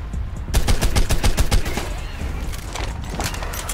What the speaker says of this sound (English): Shoot the gun, man.